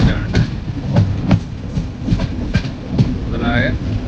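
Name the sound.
freight train carrying petroleum passing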